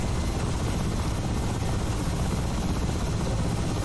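Steady, loud rotor and turbine roar of an Mi-8 helicopter in flight in the DCS flight simulator, continuous and unbroken with no talk.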